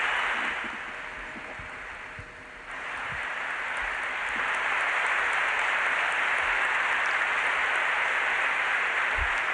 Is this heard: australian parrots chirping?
no